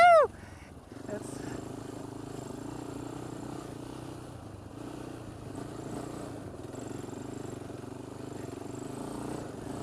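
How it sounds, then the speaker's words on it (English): A Polaris Outlaw 525 quad engine drones steadily at low throttle while the machine spins donuts, a continuous low hum with faint whine after a brief loud burst at the start, no clear talk. "I'm barely giving it any throttle, and it's effortlessly doing donuts."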